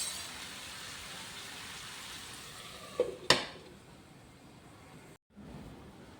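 Hyderabadi lal chicken simmers and fries gently on a low flame with a soft, continuous sizzle, broken by a couple of sharp clanks before the sound drops out for a moment.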